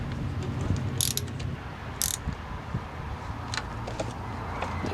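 A ratchet tightens the negative battery terminal on a Jeep Wrangler TJ, with close, quick mechanical clicks in short bursts and a few sharper metallic ticks, no talk.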